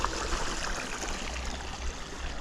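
A stream on a mountain-bike trail in Lesotho flows with a continuous, close rush of water that stays steady throughout.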